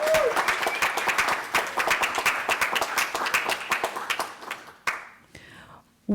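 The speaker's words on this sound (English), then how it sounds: "Give yourself a round of applause." A graduation ceremony audience for international students claps in a dense, steady burst of applause that thins out toward the end, with a few voices audible near the start.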